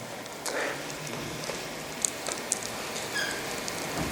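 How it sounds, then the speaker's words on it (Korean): Rain falling steadily on a surface, a soft continuous patter with a few sharper drips, at a low, even level and no speech. "이게 빗소리예요?"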